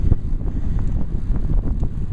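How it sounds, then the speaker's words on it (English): A headwind buffets the microphone of a road bike rider near Marina Green and Crissy Field in San Francisco, making a low, steady rumble that swells and dips over a couple of seconds. "The headwind that I'm riding into."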